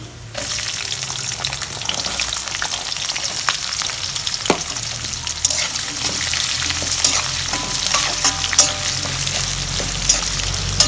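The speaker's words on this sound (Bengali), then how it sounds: "এখন আমি পেঁয়াজ দিয়ে দিচ্ছি।" Onions are added to hot oil with bay leaves and whole spices while cooking a duck curry, starting with a loud burst of sizzling and then a steady close frying crackle with occasional stirring scrapes and no talk.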